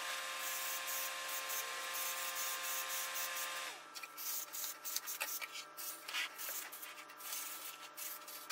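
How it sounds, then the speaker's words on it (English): A spray can or bottle sprays a steady hiss over a faint tonal hum, then breaks into short uneven bursts as it sweeps back and forth close by. "I'm going to spray the best I can"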